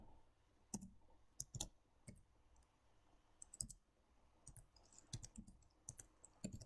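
Calculator keys are tapped in quick, irregular bursts of light clicks while someone punches in numbers, faint and close against a quiet room.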